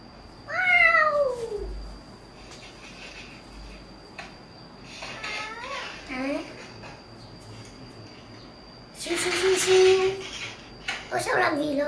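Talking Tom, the cartoon cat from a mobile video game, lets out several separate synthetic meows spread across the stretch, while a young voice talks in between.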